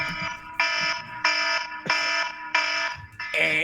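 An alarm sounds during a live stream with a loud repeating electronic tone in five even pulses of about half a second each, a short pause between pulses, and a voice faintly underneath.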